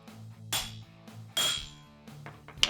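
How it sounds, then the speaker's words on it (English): A hammer strikes a masonry chisel set on scrap aluminum, giving three sharp, ringing metallic hits spaced about a second apart, close and fairly loud, each fading quickly, with no talk. "Just put the chisel wherever you want to cut it, give it a couple of good hits."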